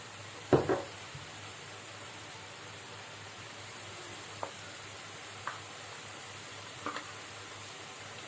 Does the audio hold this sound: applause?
no